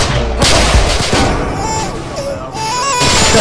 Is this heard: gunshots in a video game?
yes